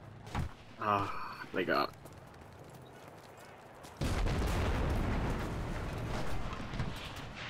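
A grenade blast in the World War II shooter Enlisted, set in Vysokovo village during the Battle of Moscow, bursts into a loud, sustained rumbling roar after a man's brief excited speech.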